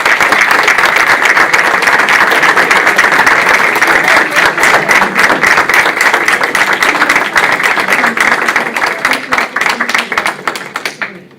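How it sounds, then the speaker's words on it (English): A school board meeting audience gives a loud, dense round of applause for students heading into higher education, close and sustained for about eleven seconds before thinning into scattered claps and stopping. "How about a nice round of applause?"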